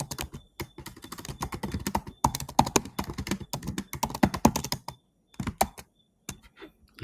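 Someone types on a computer keyboard in rapid, uneven bursts of key clicks, close and clear, with a brief pause before a few final taps.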